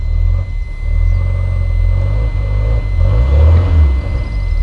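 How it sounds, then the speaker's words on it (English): Engine of a cheap 1980s Ford car running close by, a steady loud low rumble with rises in pitch as it revs, no voices over it. "let's see if we can fire it up. Starts on the button."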